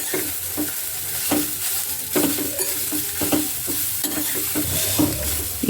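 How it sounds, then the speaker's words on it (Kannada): Grated coconut sautéing in a hot pan, a loud, close sizzle broken by repeated scraping strokes of a spoon at an uneven rhythm. "ತೆಂಗಿನಕಾಯಿನೂ ಒಂದು ನಿಮಿಷ ಬಾಡಿದ್ರೆ ಸಾಕು."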